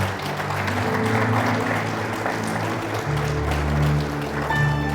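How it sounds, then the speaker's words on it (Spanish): Congregation clapping during a church service, a dense wash of hands mixed with sustained organ or keyboard tones and a low hum, continuous and fairly loud. "Cuando dicen amén, aplauda al Señor"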